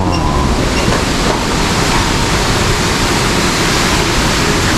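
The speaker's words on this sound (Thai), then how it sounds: "เป็นน้ำตกก่อนนะครับ ต้อนรับเราด้วยน้ำตกก่อน" Waterfall at a cold-climate flower garden in Rayong, its water pouring in a loud, continuous broadband rush that stays steady throughout.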